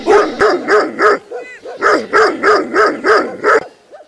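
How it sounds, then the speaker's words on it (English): Aggressive Mongolian dogs bark loudly and close by in rapid, rhythmic bursts of about a dozen barks, broken briefly by a short whine partway through. "Mongolian dogs can be very aggressive, but I held my ground."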